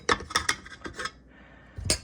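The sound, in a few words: stirring whole wheat flour and oats into a bowl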